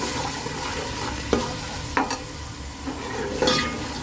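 Garlic-ginger paste fries in a pan as a spoon stirs it, giving a steady close sizzle with a few sharp scrapes and clinks of utensil on metal, and no voices.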